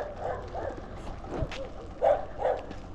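Dogs bark among abandoned factories and dismantled vehicles on a road trip near the Salar de Uyuni, a few faint, distant yaps rising over steady background noise.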